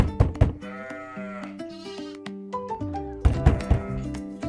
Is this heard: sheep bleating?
yes